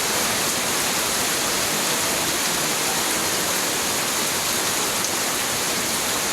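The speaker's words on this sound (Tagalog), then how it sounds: "Yan tumutulo na yung garahe." Rain pours onto and drips from a garage roof as a dense, steady hiss, loud and unbroken throughout with no distinct single drops or voices.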